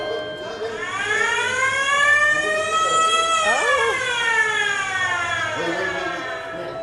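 A loud fire station siren at Disneyland wails nearby, its pitch climbing and then gliding slowly downward; someone briefly exclaims partway through.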